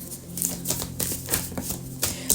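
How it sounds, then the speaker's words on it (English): Rapid papery riffling and soft slaps of a tarot card deck being shuffled by hand up close, several quick bursts in a row with brief pauses. "This deck does not want to shuffle"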